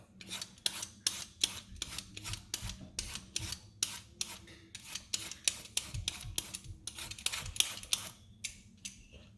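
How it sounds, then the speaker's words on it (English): A vegetable is peeled in short, rapid rasping strokes, close and fairly loud, each scrape followed by a brief pause in an uneven rhythm, with no talking. "I'm not gonna bore you with me peeling this off"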